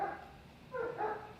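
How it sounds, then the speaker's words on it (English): A neighbor's dog gives a few faint barks in the background, one near the start and a pair just under a second later, distant and soft. "the dog that you guys are hearing in the background, that's Debo, that's the neighbor's dog."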